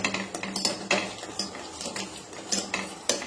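A spoon scrapes and clinks repeatedly against a pan over a flame as food is stirred continuously, with quick irregular metallic taps close by.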